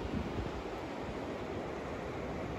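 Fast-flowing river water rushes steadily along the Niagara Falls riverside in Canada, a continuous broadband roar with wind buffeting the microphone and no break for the whole stretch.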